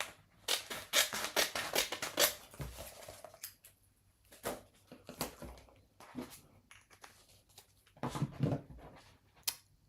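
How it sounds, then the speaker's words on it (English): Several quick snipping cuts from scissors through transfer tape, close by, in short bursts with pauses and light handling noises between them. "I'm just going to cut a small piece of transfer tape"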